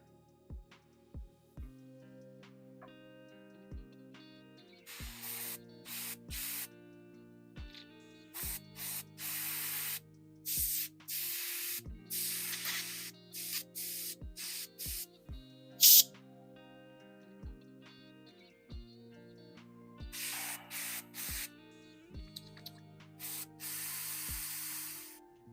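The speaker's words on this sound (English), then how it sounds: "Let's run some fluid through this airbrush." An airbrush sprays paint fluid in a series of short, sharp hissing bursts of varying length, close by, separated by quiet gaps over a faint steady tonal hum.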